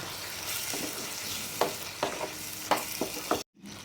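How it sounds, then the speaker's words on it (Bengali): Spoon scraping and stirring cooked onion curry in a pan with garam masala and chopped coriander, a series of distinct scrapes over a steady low sizzle, ending in a sudden brief silence. "এবারে আমি এটাকে হালকা করে নাড়াচাড়া করে নামিয়ে নেব।"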